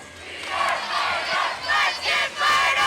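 A South Dakota cheering section at a Little League World Series baseball game yells and chants in loud, surging bursts, a dense crowd roar rising and falling in waves.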